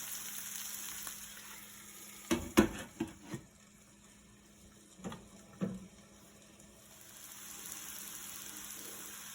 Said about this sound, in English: So on medium-low flame, we'll let the fish cook on each side for a good 3 to 4 minutes.